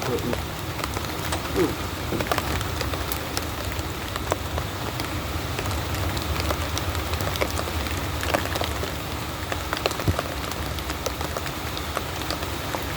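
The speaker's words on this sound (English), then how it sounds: "I hope this rain passes over." Steady rain falls outdoors around a 1998 Ford Ranger 4x4 during frame welding work, a dense, even patter with scattered sharper drops over the whole stretch, moderately loud and uninterrupted.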